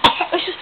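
A single short cough from a young child, one sharp burst followed by faint breathy trailing sounds, close and alone.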